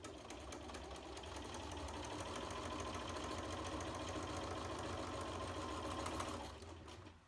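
Sewing machine stitching a quilt, a steady fast mechanical whirr that runs for several seconds at even speed, then stops abruptly near the end.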